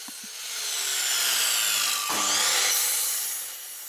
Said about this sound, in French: J'ai ensuite tout coupé avec la scie à ongler.